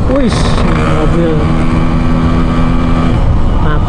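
A car drives by on a busy road, its engine rising and fading over steady traffic noise nearby, with people talking over it.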